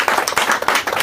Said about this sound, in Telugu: ఆయన గట్టిగా చప్పట్లు కొడదామా?